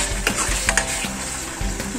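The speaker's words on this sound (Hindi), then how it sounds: "भूनती हूँ मसाला" Dhaba-style egg curry masala is sautéed in a pan, a loud, continuous sizzle close by, broken by several sharp clinks and scrapes of a spoon stirring against the metal.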